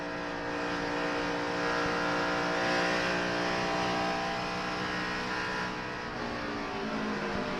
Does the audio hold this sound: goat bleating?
no